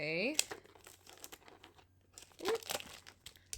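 Plastic packaging on a high-pressure airbrush kit with an air compressor crinkles and tears in short bursts near the mic while it is opened by hand, with brief talk in between.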